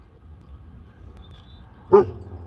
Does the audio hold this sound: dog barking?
yes